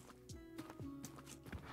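Horse hooves clip-clop in Tavern Manager Simulator, several quick uneven hoofbeats close by over less than two seconds, with faint low tonal game background.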